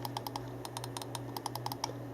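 Quiet clicking of a Cooler Master Storm Reaper aluminium computer mouse, a series of about fifteen light, crisp clicks in an uneven rhythm, close and alone over a steady low hum.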